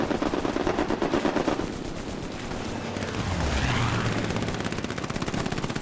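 Heavy gunfire in the WWII shooter Hell Let Loose, with rapid machine-gun bursts at the start and end and a rumbling lull between, a dense battlefield fusillade with no talk.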